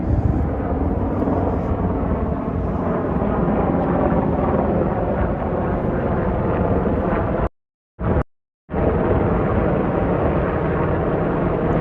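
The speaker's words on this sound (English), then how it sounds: "that helicopter is back again" A helicopter passes over uptown Manhattan near Riverside Church, heard as a loud, steady rotor and engine roar with wind buffeting, broken by two brief dropouts.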